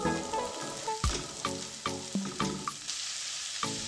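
Ginger pieces with cloves, black peppercorns and green cardamoms sizzle and fry in a pan, a steady crackle broken by sharp pops and stirring clatters.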